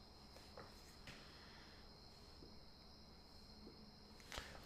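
Crickets chirp on a Friday night in a steady high-pitched trill, faint and continuous, with a few soft scattered taps and rustles.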